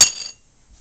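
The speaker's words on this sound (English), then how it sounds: "Be sure to use a metal spoon when you're doing this," A metal spoon strikes a bowl once while oobleck is being mixed, giving a bright, close clink with a short ring that fades within a third of a second.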